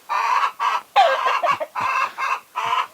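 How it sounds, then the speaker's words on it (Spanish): Farm hens cluck and cackle in repeated loud bursts, close by, with short gaps between the squawking phrases and no human talk. "Amanecieron hoy felices las gallinas"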